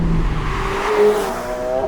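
McLaren 750S Spider sports car with turbocharged engine accelerating hard on a road, a loud rising engine note sweeping upward alone and then a quick gear change at the end.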